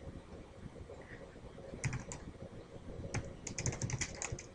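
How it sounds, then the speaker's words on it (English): Keys tapped on a computer keyboard by six fingers, sparse uneven clicks clustering into short quick runs over a low steady room hum, close and soft, no voices. "you can see I'm typing with 6 fingers here"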